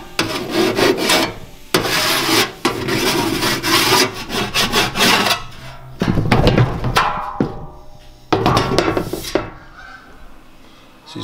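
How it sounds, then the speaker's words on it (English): Burrs are filed off freshly cut metal on a 1969 Ford Capri during rear quarter panel work, a close, loud rasping in uneven bursts of repeated strokes with short pauses. "I'm just going to take some of the burrs off from cutting."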